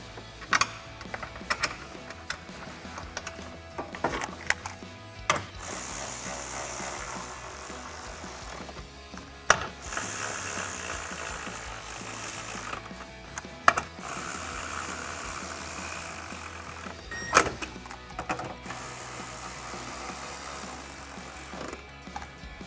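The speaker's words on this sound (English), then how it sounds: "Take a 10mm socket to tighten them down." Ratchet with a 10mm socket tightening upper grill bolts on a 2014-2018 GMC Sierra 1500, rapid clicking bursts repeated several times between quieter pauses and clunks, close up with no speech.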